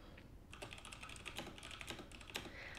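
Quick, light keystrokes clatter on a computer keyboard in a steady burst of rapid taps, close but soft, with no voices.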